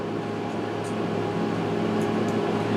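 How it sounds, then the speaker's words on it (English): Home air conditioner running steadily indoors, a constant low broadband hum and hiss at moderate level with no other sounds. "you can hear my air conditioner running"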